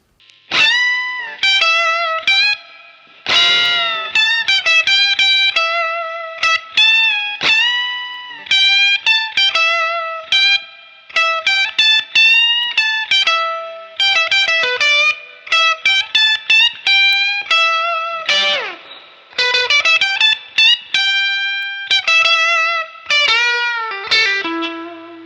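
Electric guitar played through a Fender Blues Junior amp at the edge of breakup, giving a shrill, biting Albert King-style lead tone; string-bent single-note phrases ring out alone in bursts separated by short pauses.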